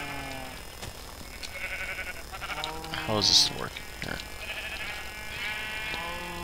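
Sheep in the video game Minecraft bleat several times in wavering, nasal calls scattered across the moment, heard under a person talking briefly.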